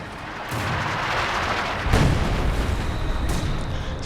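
Artillery barrage in the World War II strategy game Company of Heroes 2, a rumbling burst of booms rising midway with a heavy hit near two seconds, continuous and fairly loud, no talk.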